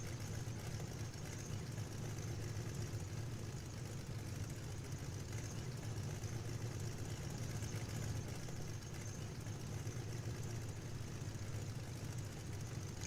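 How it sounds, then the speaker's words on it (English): A Boeing-Stearman Model 75 radial engine rumbles steadily at low power while taxiing in the FSX/P3D flight simulator, a constant low drone with no voices. "custom sounds recorded from actual engines in airworthy Stearmans"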